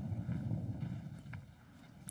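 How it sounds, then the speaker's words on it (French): Wind gusts across an outdoor pétanque ground at a Masters de Pétanque semifinal in Wissembourg, a broad low buffeting rush against the microphone, strongest at first and easing off, with no talk heard. "Alors, on entend bien le vent là."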